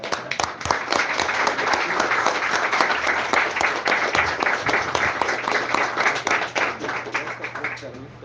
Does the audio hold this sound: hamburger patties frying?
no